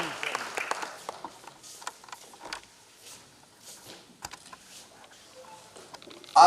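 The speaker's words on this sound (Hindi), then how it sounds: "एक बार जोरदार तालियां सिंह साहब के लिए।" An audience at the opening session of the Bihar Gaurav Mahotsav in Patna claps for a guest, scattered and fairly faint hand claps that thin out, with a louder burst at the very end.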